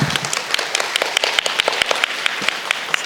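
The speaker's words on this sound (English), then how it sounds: "So please give a round of applause for people who make this conference possible." Conference audience applause, a short burst of many hands clapping at a steady, fairly close and moderately loud level, with no talk over it.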